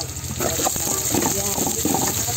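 Chopped onion sizzles and fries in a hot pan for chop suey, a steady close crackle with a few stirring scrapes and no talking.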